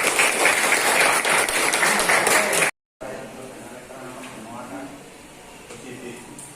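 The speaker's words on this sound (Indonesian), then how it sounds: "Tepuk tangan untuk kelompok 3." A classroom group claps for several seconds, broken by a brief gap of silence, then softer clapping and room noise continue.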